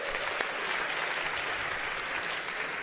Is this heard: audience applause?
yes